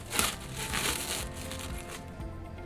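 Sticky blown stretch film being peeled off a roll, giving close, irregular crackling and crinkling bursts, loudest near the start and thinning toward the end.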